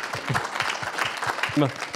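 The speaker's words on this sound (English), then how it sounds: "Round of applause for our panel" A pub crowd at a science talk night claps for a panel, brisk scattered applause with voices and a laugh mixed in.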